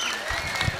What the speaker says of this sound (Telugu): చంటి సార్ కొంచెం గట్టి కొట్టాలి చప్పట్లు